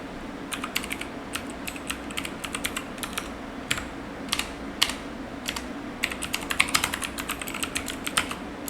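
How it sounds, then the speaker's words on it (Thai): Rapid keystrokes on a computer keyboard, tapped in uneven bursts with short pauses, close and fairly quiet over a steady low room hum. "ขอโทษผมพิมพ์ผิด"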